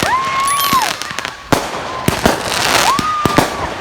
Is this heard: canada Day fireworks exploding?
yes